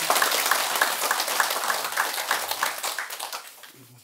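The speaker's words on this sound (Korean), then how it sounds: "그 외 우리 불자들한테 다 같이 박수 한번." A Buddhist congregation applauds together in a dharma hall with sustained, even clapping that tapers off near the end.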